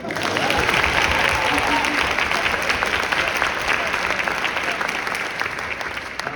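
Steady audience applause fills a high school symphonic band spring concert, loud and sustained, slowly tapering at the end with no talk over it.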